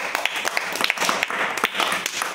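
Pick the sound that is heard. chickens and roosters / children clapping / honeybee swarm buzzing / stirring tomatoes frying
children clapping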